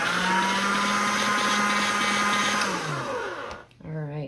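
Motorised pasta machine rolling a polymer clay veneer, a loud, steady mechanical whir with a constant hum that winds down near the end before a brief restart, and a voice is heard over it.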